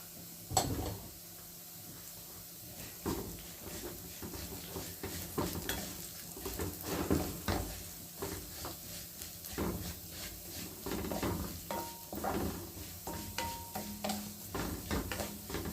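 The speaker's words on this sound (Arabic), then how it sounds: "نجيب بقى ايه البطاطس نحمرها في الزيت الاول" Potato pieces fry in hot oil with a continuous sizzle, broken by stirring and the clatter of a utensil against the pan throughout.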